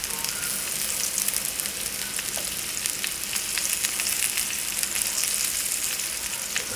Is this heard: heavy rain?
no